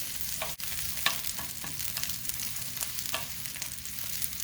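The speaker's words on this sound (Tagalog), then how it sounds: "Saute until it's translucent in color." Onion and garlic sauté in a pan with a steady close sizzle, broken by occasional stirring scrapes and pops, and no voices.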